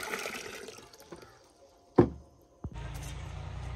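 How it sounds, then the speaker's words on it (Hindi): After a single hollow knock, water starts running steadily into a 90-litre tub, a quiet, continuous filling sound up close with no one speaking. "इसमें भर रहे हैं हम पानी"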